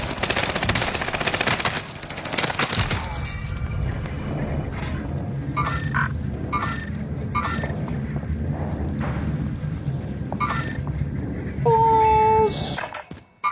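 Rapid automatic gunfire from the Call of Duty video game, dense bursts of shots dominating the mix with game effects and a brief rising tone near the end, while voices chatter underneath.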